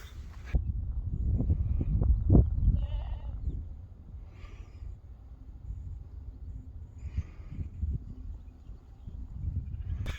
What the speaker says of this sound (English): So I'm in hell of a lot of sheep around. They're all quite vocal today